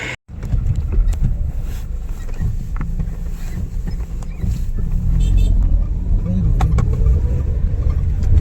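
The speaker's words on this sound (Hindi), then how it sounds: "ये देखिए पूरा जाम लग गया।" Vehicles stuck in a traffic jam on a mountain road where a landslide has blocked the way: a steady, close rumble of idling and creeping engines with wind buffeting, continuous throughout.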